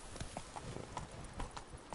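Horse hooves in The Witcher 3 game, a quiet, steady clip-clop of about five or six evenly spaced hoof strikes at a walking pace over a soft background.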